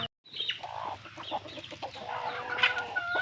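Oriental Black gamefowl chickens in a scratch pen cluck and call in a busy, overlapping stream of short, close clucks, with some louder chicken calls toward the end.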